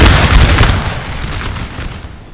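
Musket volleys from infantry in the Napoleon Total War game Battle of Tolentino (1815), fired uphill; a dense, loud crackle of overlapping shots with booming rumble, strongest at first and thinning slightly over a couple of seconds.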